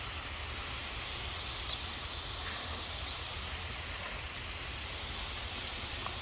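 Garden hose spraying water on backyard plants on a sunny day, a steady soft hiss of water held at an even level throughout, faint and continuous with no talking.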